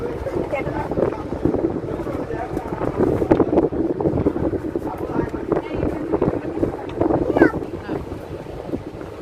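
Houseboat cruising on Vembanad lake in Kerala, a continuous low engine and water rumble with gusty wind buffeting the microphone, under a voice talking throughout.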